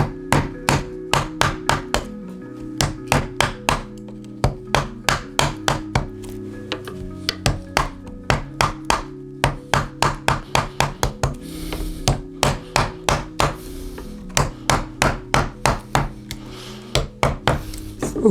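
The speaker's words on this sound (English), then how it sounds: "I now go with the chisel." Chisel strikes on wood as a nyckelharpa is carved by a luthier: loud, close, rapid trains of sharp knocks in bursts with brief pauses between, no talking.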